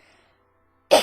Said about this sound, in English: I am really coughing.